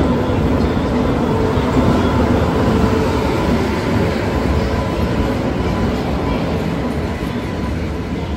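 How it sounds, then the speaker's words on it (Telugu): A Secunderabad–Guntur passenger train arrives at a railway platform with a loud, steady, close rumble of rolling wagons that continues throughout. "మన ట్రైన్ చూసి సికింద్రాబాద్ గుంటూరు వెళ్ళే ట్రైన్ అయితే వచ్చేసింది"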